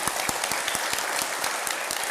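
Applause from an audience at a talk rises as a steady patter of many hands, filling the space at moderate level, with a few sharper individual claps standing out near the front.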